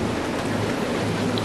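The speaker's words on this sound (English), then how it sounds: "That sounds like hail." Hail pelts down outside a hospital in a dense, steady hiss of countless small impacts, loud and unbroken throughout.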